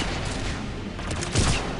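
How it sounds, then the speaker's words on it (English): Bursts of weapon fire in the shooter game Mass Effect 3, a dense crackling volley with a heavier blast near the end, loud and close over a constant game backdrop. "This thing doesn't shoot right away, like, it's got a charge to it?"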